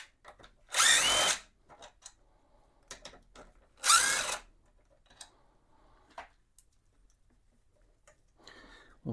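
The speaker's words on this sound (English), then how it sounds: "Let's go ahead and take the brake caliper off of it." Two short loud bursts of a power tool whir while the brake caliper is removed from a 2002 Honda GL1800 Goldwing, separated by quiet clicks and small metallic taps of work on the bike.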